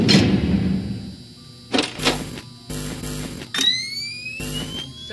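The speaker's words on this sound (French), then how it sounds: "Bah, il s'est barré, tu peux rouvrir la porte." A door reopens in the horror video game Five Nights at Candy's with a sequence of loud mechanical clunks and whirring slides, several separate bursts, one ending in a rising electronic whine.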